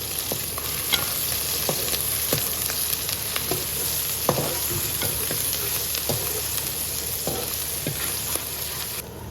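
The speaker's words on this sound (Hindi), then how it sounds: "अब इसमें लहसुन और अदरक का पेस्ट डाल दें। इनको अच्छी तरह मिक्स कर लें।" Garlic and ginger paste sizzles steadily in a pan with browned onions while a spoon stirs it, with scraping clinks at irregular intervals over continuous close, fairly loud frying.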